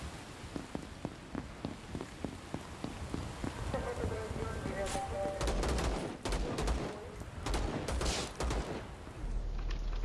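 Rapid, continuous machine-gun fire from the shooter game Vladik Brutal crackles in dense bursts, with a voice talking over the shooting.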